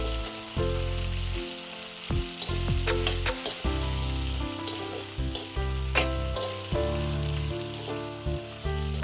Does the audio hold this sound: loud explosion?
no